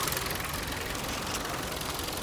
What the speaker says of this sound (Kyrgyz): Мотор жүрүшүн бир угуп коюп, биздин көрүүчүлөргө